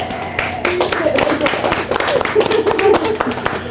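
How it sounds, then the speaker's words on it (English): Small group clapping at a session after a team activity, with uneven, fairly close hand claps under excited talking and cheering voices. "Round of applause."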